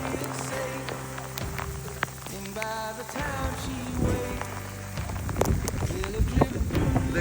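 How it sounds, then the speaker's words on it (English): Hail patters and clatters steadily on surfaces on a mountain trail, a dense crackling rain-like noise, with a person speaking over it at times. "Absolutely just hailing."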